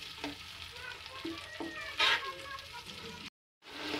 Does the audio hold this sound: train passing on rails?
no